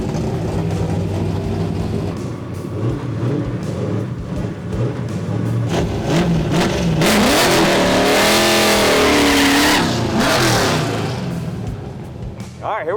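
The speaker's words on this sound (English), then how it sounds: "A little bit of a burnout. Let it rip." Chevrolet SS truck with a 632 big-block engine roaring through a burnout at City Raceway drag strip, loud sustained revving that climbs and surges, with a voice speaking over the engine noise.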